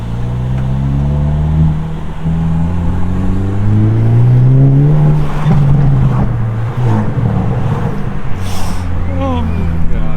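Hyundai Elantra N with its stock exhaust revving, a loud, close engine note rising and falling in pitch through several revs, with a voice talking over it.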